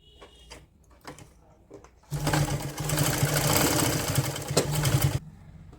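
A sewing machine runs in one steady burst of about three seconds, stitching the border on a woolen night suit for a 3–4-year-old child. It starts after a few faint handling clicks and stops abruptly, loud and close.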